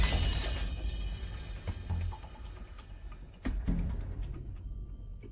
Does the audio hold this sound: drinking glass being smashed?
yes